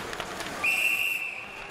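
A referee's whistle at an ice hockey game in HSBC Arena, Buffalo, blows one sustained shrill blast over constant arena crowd noise.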